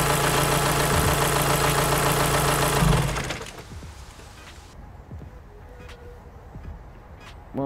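A Volkswagen Lupo GTi engine with a noisy cylinder head idles with a loud, steady rattling drone around 1200 rpm that cuts out abruptly, leaving a quieter low rumble with occasional faint knocks.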